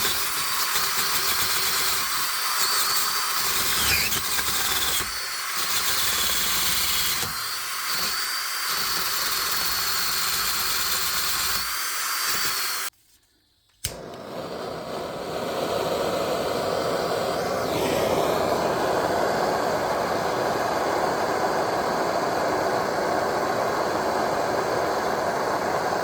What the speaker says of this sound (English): we'll just give this a quick spin over with a wire wheel and a cordless screwdriver